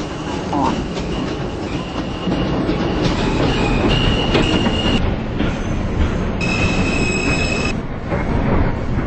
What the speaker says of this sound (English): This is a Queensbound M local train.